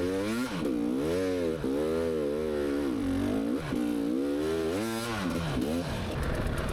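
A competition motorcycle at an off-road race climbs a hill after clearing a log, its engine revving hard in repeated rising surges with brief drops between gear changes, loud and close throughout.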